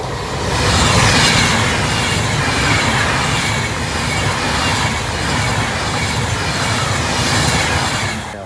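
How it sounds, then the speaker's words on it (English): A train passes on a railway line right beside a deserted cottage, a loud, sustained roar of wheels and carriages with rhythmic clattering, holding steady for several seconds close by. "and there's the railway line."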